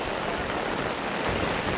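Steady rain falling outdoors at a youth soccer match, a dense, even hiss with no breaks and no voices.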